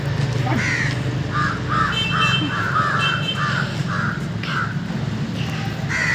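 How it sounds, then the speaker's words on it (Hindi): Several crows caw in a repeated series of harsh calls, fairly close and loud, at a foggy outdoor spot in Uttar Pradesh, over a steady background rumble. "कौवे देख रहे हो?"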